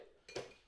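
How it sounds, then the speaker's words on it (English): A single quick clink of ice against glass, close and fairly quiet, with a short rattle that fades into a still room. "That is the sound of rocks because it is time for a drink."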